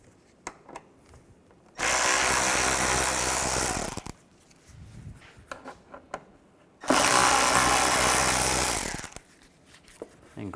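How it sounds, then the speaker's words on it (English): Power driver with a T25 Torx bit backing screws out of the front bumper area on a 2007-2013 Mini Cooper, two loud sustained whirring bursts of about two seconds each, separated by quiet handling clicks. "Take these screws out. You're going to use a T25 Torx bit."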